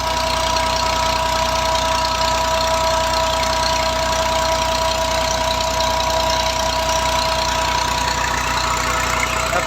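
An old Massey Ferguson 240 tractor runs a 6-inch turbine water pump, its diesel engine chugging at a steady, loud, close idle with a knocking rhythm and no pause.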